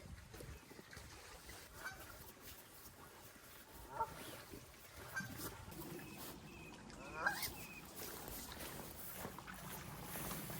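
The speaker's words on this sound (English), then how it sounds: "I've made a lot of geese angry on this trip." Angry geese near a small island give a few faint, scattered honks against quiet water and outdoor background noise.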